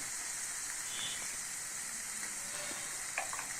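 Ivy gourd curry cooking in a pan makes a soft, continuous sizzle while being stirred, with faint scrapes and a small clink near the end.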